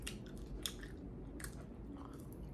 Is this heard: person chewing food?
yes